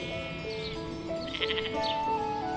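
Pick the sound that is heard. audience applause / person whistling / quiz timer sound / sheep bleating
sheep bleating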